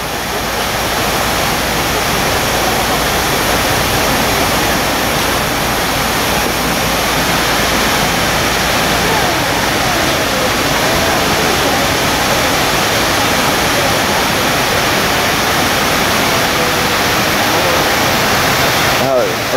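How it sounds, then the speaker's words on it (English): A large waterfall at a scenic stop with impressive buildings makes a loud, steady roar of rushing water that runs unbroken throughout. "Look at that waterfall."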